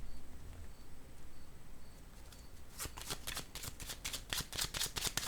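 A playing card is dealt onto a table with a run of quick, crisp flicks and taps after a quiet start, close and fairly soft.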